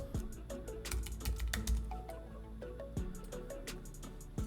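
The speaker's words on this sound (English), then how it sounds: "Fiverr, you would just type in logo design" Typing on a computer keyboard, quiet irregular key clicks tapping in quick bursts, faint and close, with no voices.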